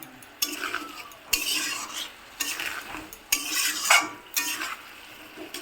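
Salt and turmeric stirred into a fish curry spice mix in a pan: repeated scraping strokes of a utensil against metal, five or six distinct sweeps with a soft sizzle between them, close and clear.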